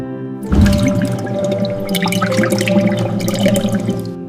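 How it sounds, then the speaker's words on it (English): Filtered water for toothpaste manufacturing poured in a steady, splashing stream that starts abruptly after a short silence and continues loudly with bubbling and gurgling to the end. "Water, filtered to its purest essence."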